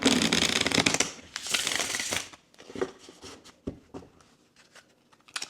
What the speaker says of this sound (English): I love that sound, the sound of the cards shuffling.